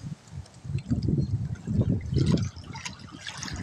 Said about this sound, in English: Thank you, waves. Thank you, seawater.